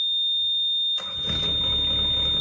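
A site dumper engine being started: a high electrical whine, then the engine turning over and catching with a low rumbling roar close by.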